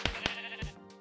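Two quick sheep bleats from Minecraft Hypixel Skyblock ring out close and clear, one right after the other, then a softer third bleat follows with the game's ambient backdrop behind them.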